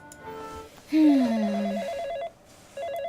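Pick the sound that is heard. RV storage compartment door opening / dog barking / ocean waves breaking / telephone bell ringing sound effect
telephone bell ringing sound effect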